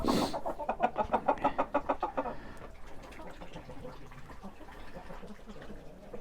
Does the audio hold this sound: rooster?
yes